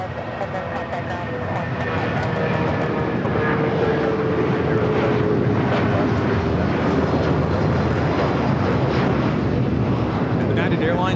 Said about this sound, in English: United Airlines 1950 taking off to Newark on the 757-200, the Star Alliance livery.